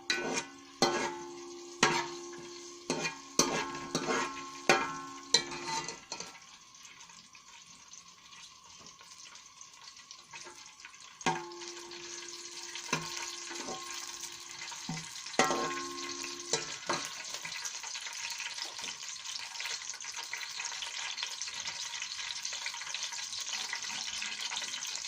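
Cumin seeds crackling and sizzling in hot oil in a pan, with a steady frying hiss and sharp clinks of a utensil against the pan early on, then a denser, continuous sizzle.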